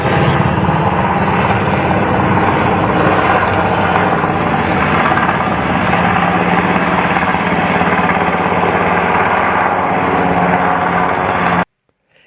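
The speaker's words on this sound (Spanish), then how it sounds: "Pobladores de la comunidad grabaron la movilización, entre ello el helicóptero que ves a continuación" Helicopter flying over a community in Celaya during a shootout and security mobilization, a loud, steady rotor and engine roar that holds unbroken and close for about eleven seconds before cutting off abruptly.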